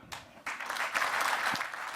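Applause from city and state leaders and automakers in Alabama at a large economic development announcement, a crowd clapping together for about two seconds, steady and close, with no one speaking.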